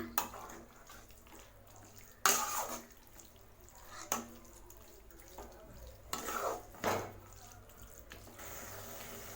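Mutton keema with masala being stirred and sautéed in a pan for a vermicelli biryani, quiet, soft frying under repeated spatula scrapes and clinks against the pan.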